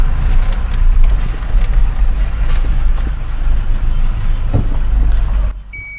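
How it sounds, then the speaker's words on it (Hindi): A 5-ton truck backs up with a repeating electronic reversing beep sounding in regular pulses over a loud, steady diesel engine rumble, close by, ending abruptly. "आप गाड़ी रिवर्स लगा लीजिए पहले"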